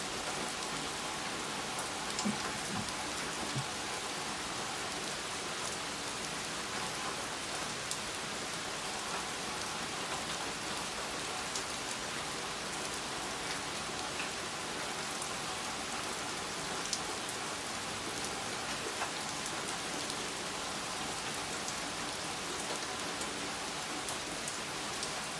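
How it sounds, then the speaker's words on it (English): Steady rainstorm with rain falling and pattering on surfaces, a constant dense hiss that holds evenly throughout with no voices. "we've got a nice little rainstorm going on here"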